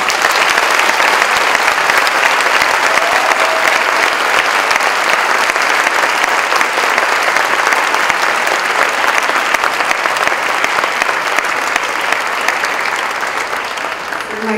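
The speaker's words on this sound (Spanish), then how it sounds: "Les pido, por favor, un fuerte aplauso para ella." Loud, continuous audience applause at a book presentation, a dense roomful of clapping holding steady for the whole stretch and only beginning to thin near the end.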